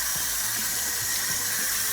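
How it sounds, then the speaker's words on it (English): A water hose sprays a steady, broad hiss while rinsing spilt brake fluid from the brake area of a 2011 VW Polo 6R TSI after a brake fluid change, with no voices. "brake fluid dissolves in water, so you can just hose the whole area down"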